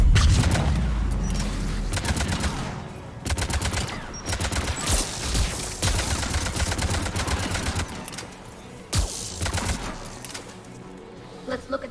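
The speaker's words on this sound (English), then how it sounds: "AA guns ahead of us." Anti-aircraft guns firing in Mass Effect 3 during the Quarian/Geth War, a dense run of loud, rapid heavy bursts with booming low thumps, pausing briefly and resuming across the whole stretch.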